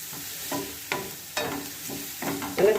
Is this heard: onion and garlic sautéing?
yes